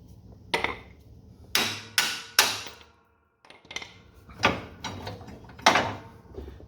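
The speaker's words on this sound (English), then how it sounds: "you can hammer on that to get it the rest of the way off" Hammer blows on a John Deere D Series steering shaft, about eight sharp metallic strikes in uneven groups, loud and close, with a brief silent gap midway.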